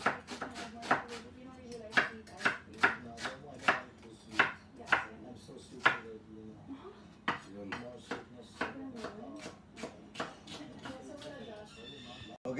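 A knife chops onions on a cutting board in a steady run of about twenty sharp, close strikes, the pace easing slightly near the end, with some soft talking underneath.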